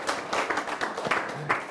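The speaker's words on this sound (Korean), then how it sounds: "박수." Audience clapping during a Buddhist monk's meditation talk, a short spell of fairly quiet, steady applause with overlapping claps and no voices.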